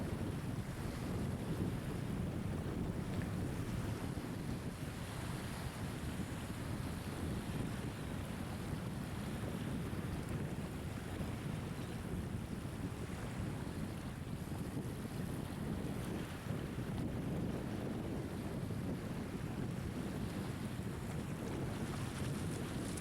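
Strong, steady wind buffets the microphone in the open Oregon desert, a continuous loud low roar with gusty rumble that holds for the whole stretch, with no voices.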